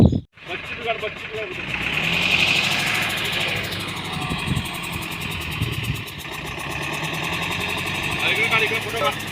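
A vehicle engine idles steadily nearby with a low, even drone while people talk over it.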